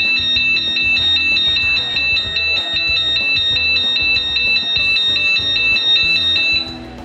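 A Hyperion anti-theft alarm fitted to a motorbike sounds a loud, piercing electronic siren that pulses in rapid, repeating beeps for several seconds, then cuts off abruptly near the end.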